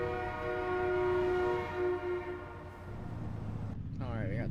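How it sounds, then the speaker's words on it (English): A train in American Truck Simulator sounds a long, loud steady horn blast near a crossing, with a lower engine rumble beneath it, before the horn fades and rail rumble and a brief tonal sweep follow. "Alright, we got the train coming, we got a green light."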